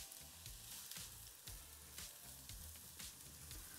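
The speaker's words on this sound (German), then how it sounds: "Unser Butterschmalz ist jetzt heiß. Jetzt kommen da unsere Zwiebeln rein." Finely chopped onions sizzle and fry in hot clarified butter in a pan, a steady close crackle with small popping bursts throughout.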